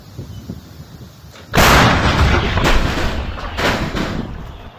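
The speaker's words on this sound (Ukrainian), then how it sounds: "Постріл." One loud shot from an anti-aircraft gun booms after a quiet stretch, its blast ringing out and rolling into echoing reverberation that fades over several seconds.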